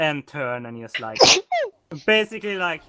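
A sudden, forceful sneeze bursts out in the middle of casual talk, loud and close to the microphone, with speech before and after.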